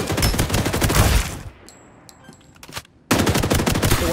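Rapid automatic gunfire in the battle royale game Farlight 84, loud bursts of dense shots that cut out for a quieter stretch with a few isolated pops, then resume at full intensity.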